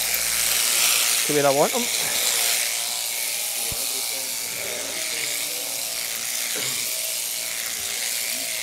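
Electric shears buzzing through the wool of a ram during shearing, a close steady motor whine with a brief louder burst near the start, while someone talks over it.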